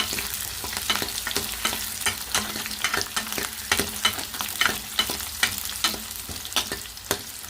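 Vegetables fry in a pan with a continuous close sizzle, while a spatula strikes and scrapes the pan in regular sharp clicks throughout.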